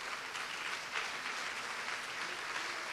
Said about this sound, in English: Can you guys give a round of applause for your tech coaches?